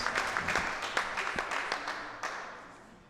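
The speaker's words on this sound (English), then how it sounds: "I want y'all to give her a round of applause" Applause from an audience at a DEI field hearing in Albany, Georgia, honoring a speaker; scattered hand claps ring through the room, fairly steady at first and then thinning out and fading toward the end.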